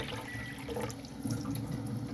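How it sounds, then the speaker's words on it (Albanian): Water runs steadily from an Enagic Kangen Leveluk K8 water ionizer into a glass, a continuous close splashing rush with no voices. "unë do të mbushi këtë gotën këtu me këtë ujë, edhe këtë gotën këtu me këtë ujë"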